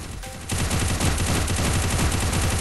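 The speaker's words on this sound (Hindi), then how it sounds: "अंधाधुन फायरिंग करो भाई, अंधाधुन।" Continuous automatic gunfire in Garena Free Fire's zombie hunt mode, a loud, fast, unbroken stream of shots that starts abruptly after a brief quieter moment.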